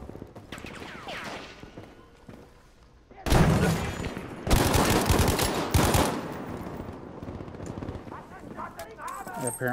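Bursts of machine gun fire in a video game, loud dense clusters in the middle of the clip, with someone talking over the game sounds before and after.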